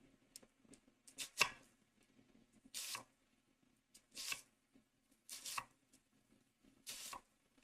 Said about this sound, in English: I'll slice up the other half of the onion